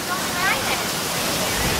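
Water rushes at the Maelstrom boat ride waterfall at EPCOT, a constant broad roaring hiss with a voice briefly audible over it.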